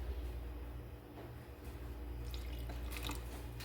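Water being poured into bread dough for a sourdough hamburger bun, a faint trickle with a few soft drips over a steady low background hum, with no talking.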